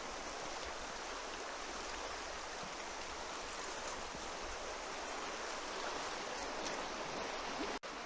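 A deep, fast stream rushes steadily beside a caravan and motorhome club campsite dog walk near Abergavenny, a dense continuous close wash of water noise with one brief knock near the end.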